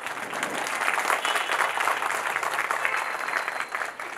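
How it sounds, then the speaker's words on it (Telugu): Audience clapping at a talk on diet and health, a dense sustained round of applause from a crowd that runs steadily throughout with no voices over it. "చప్పట్లు తట్టండి అయ్యా"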